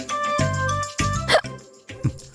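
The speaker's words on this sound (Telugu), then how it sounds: "ఎక్కిళ్ళు పేరు వినగానే నీకు వెక్కిళ్ళు వస్తున్నాయంటమ్మా" A person hiccups several times in a short indoor scene, sharp voiced jolts spaced unevenly and heard up close, with some vocal sound between them.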